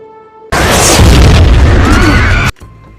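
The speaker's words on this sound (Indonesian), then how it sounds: "tiba-tiba bis yang di samping pagar meledak secara mendadak" A bus parked beside a fence explodes in the action film Olympus Has Fallen, a huge, sudden, very loud blast with deep rumbling debris that roars for about two seconds and then cuts off abruptly.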